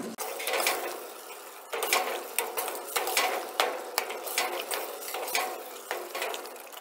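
Kadhai gravy with coriander and cumin powders stirred in a pan over a slow flame, a run of rhythmic scraping and clanking strokes against the metal with soft sizzling between them.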